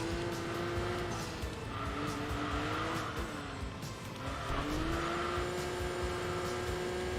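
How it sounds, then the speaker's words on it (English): A Nissan GTR's engine in Enthusia Professional Racing drones and revs with shifting pitch, turbo blow-off valve sighs and faint tire noise mixed in, steady and moderately loud without talk. "the aggressive blow-off valve as well on the GTR"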